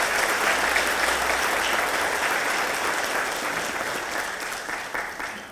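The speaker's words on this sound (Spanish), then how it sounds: "merece un aplauso también" A conference audience at a national gender forum on disaster risk management applauds in a dense, steady wash of clapping that holds at even strength and tapers slightly toward the end.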